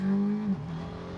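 A BMW F450GS motorcycle engine revs while being ridden, a brief steady engine note that dips in pitch partway through.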